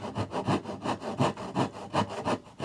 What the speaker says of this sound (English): you can start sawing here